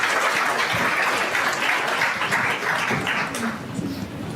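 Audience applause at a women-in-tech leadership event greets a speaker coming up to the stage, a dense, even burst of clapping that holds steady and tapers slightly near the end.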